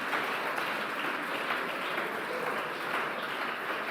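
A church congregation applauds during a sermon, producing dense, sustained clapping from many hands that stays loud and even throughout, with no talk over it.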